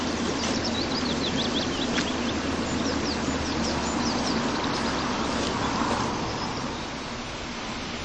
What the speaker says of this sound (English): you can hear water rushing in the background